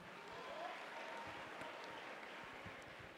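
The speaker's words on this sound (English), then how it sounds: "Let's give him a round of applause." An audience applauds steadily at a South African election endorsement rally, a dense, even wash of many hands clapping throughout, faint and distant.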